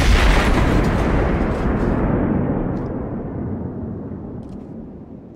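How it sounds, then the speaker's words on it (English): A grenade goes off in the Generation Zero video game, one loud close blast at the start whose low rumble slowly dies away over several seconds, alone with no talk. "It's a grenade."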